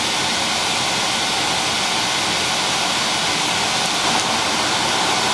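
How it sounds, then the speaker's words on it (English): A blacksmith's forge fire heating a steel punch roars in a steady, loud, broadband rush that holds constant throughout, close and unbroken, with no voices. "So let's just stick it in the fire and try and get it up to the proper heat."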